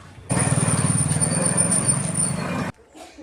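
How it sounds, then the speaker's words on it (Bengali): A train rushing past a lowered level crossing gate, a loud dense rumble with rapid rhythmic clatter that starts abruptly and cuts off after a couple of seconds, leaving quiet behind. "ট্রেন আসুক।"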